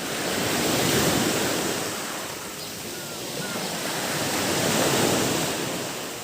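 Steady rush of sea waves and wind on a beach, a continuous broadband surf noise swelling and ebbing gently, with some wind buffeting on the microphone.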